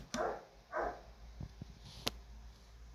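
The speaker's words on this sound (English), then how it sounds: "That's my dog in the background." A dog barks a few times in the background of a house, short distant woofs followed by a couple of faint thumps and a sharp click.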